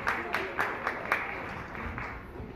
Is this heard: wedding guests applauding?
yes